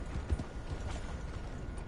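Horse hooves clip-clop across the ground in the video game Red Dead Redemption 2, a steady muffled plodding with soft low thumps over a dense, noisy ambient background.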